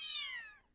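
A young kitten, only a few weeks old, gives one high, squealing meow at feeding time. It is close and loud at first, then bends downward and fades out.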